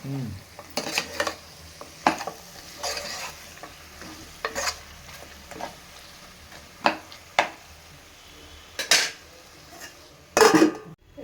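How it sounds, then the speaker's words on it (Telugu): Mutton and fenugreek curry is stirred in a pot. A spoon scrapes and clinks against the metal in repeated bursts over a low simmering bubble, and a sharper clatter comes near the end. No one speaks. "మధ్య మధ్యలో కలుపుదాం ఒకసారి కలుపుదాం లేకుంటే అడగంటుతుంది"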